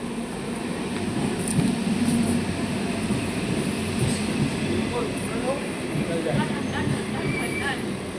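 Steady, continuous rumble of a train in motion, with a broad rolling roar and faint rhythmic clatter that stays even throughout, under a murmur of distant voices.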